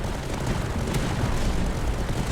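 Turret firing in the game Tower Dominion: dense, continuous booming rumble of rapid shots and explosions, loud and unbroken, with no voices.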